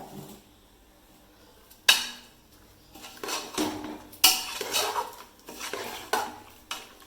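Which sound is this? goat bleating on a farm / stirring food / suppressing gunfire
stirring food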